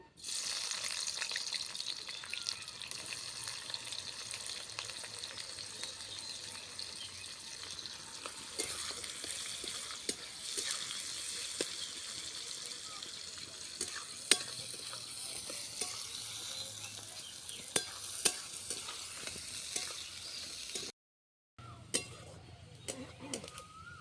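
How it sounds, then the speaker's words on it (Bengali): Sliced onions sizzle and crackle steadily in hot oil as they fry for crispy birista for chicken biryani in a village kitchen. Occasional stirring clicks sound over the frying, and a voice speaks now and then. "200 গ্রাম পেঁয়াজ আমি বেরেস্তা করার জন্য ভেজে নেব।"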